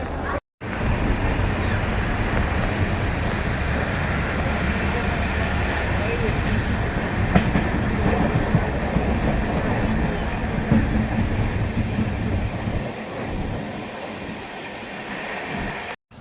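A train rumbles steadily along with continuous rolling noise and faint rattling, loud and close, easing off slightly near the end.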